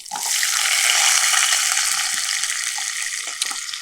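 Onions dropped into hot oil after fennel seeds, sizzling in a pan for chicken curry; a loud, steady hiss of frying fills the whole stretch, with no talking.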